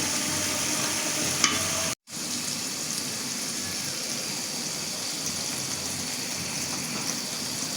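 Prawn and taro stolon curry reducing in a pan, giving a steady close sizzle and bubble that runs throughout, broken by one brief dropout near the start, with no voices.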